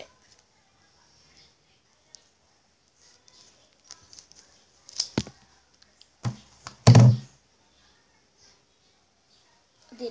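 Scissors snip into a squishy foam toy at close range, giving a few soft thunks and taps, then a louder, longer cutting burst near the end, with quiet handling noises between.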